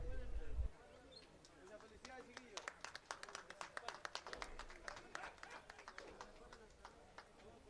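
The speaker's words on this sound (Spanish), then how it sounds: "le brindamos nuevamente un fuerte aplauso a los campeones de la tercera serie" Applause from the audience at a provincial rodeo in Limache, Chile honouring the champions: a burst of scattered hand claps, moderately distant, with a voice talking over the start.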